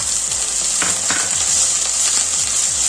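Green peas sauté in a spiced masala in a pan for methi matar malai, giving a loud, continuous close-up sizzle with faint stirring scrapes.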